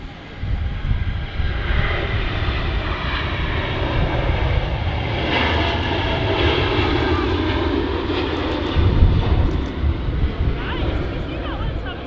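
An Etihad Boeing 787-10 Dreamliner rolls for takeoff at Manchester Airport, its engines a loud, steady roar that swells slightly toward the end, with people talking over it.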